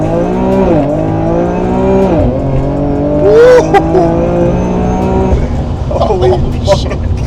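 A tuned Infiniti Q50 making over 600 wheel horsepower launches hard from low speed on a hot day, its engine roaring through rising revs and gear changes with a brief tire chirp and people exclaiming in the background.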